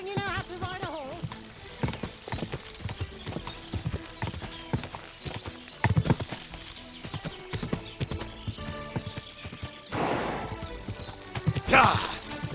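Horse hooves clip-clopping during riding in the video game Kingdom Come Deliverance II, a steady rhythmic stream of hoof strikes under game music and ambience, with louder crashing bursts near the end and occasional voices.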